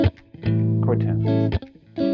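Electric guitar soloing over a single-chord vamp, landing on chord tones: sustained, slightly overdriven single notes and bends ring out loud and close in phrased bursts with short gaps between.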